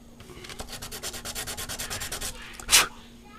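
Sandpaper rubs back and forth over a camera lens part in about a dozen quick, evenly spaced close strokes, followed by a single sharper scrape near the end.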